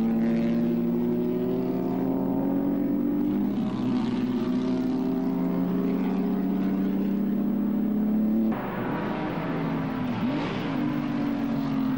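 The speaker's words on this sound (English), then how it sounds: "And number eight going through there, Robin Lodge in the Ferrari." A Ferrari post-war racing car at Silverstone drives past with a loud, sustained engine drone that holds steady, then shifts pitch as it goes by.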